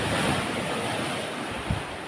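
Strong ocean waves surge and wash along a shoreline in steady, loud broadband roar, with wind buffeting the microphone and one brief heavier splash near the end; no one speaks.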